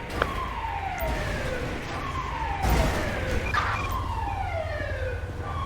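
A wailing ambulance siren in the video game GTA 5 sweeps up and down repeatedly, loud and steady, with a constant rumbling background throughout.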